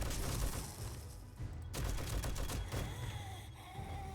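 Automatic turrets in 7 Days to Die rattle off continuous rapid fire during a Blood Moon night, a dense steady clatter of shots with brief dips and a few sharper cracks mixed into the din.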